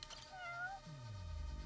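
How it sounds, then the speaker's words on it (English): A cat in the video game Judgment gives a short, close meow with a rising then falling tone, followed by a low synthetic swell of game sound. "Oh, there's the kitty."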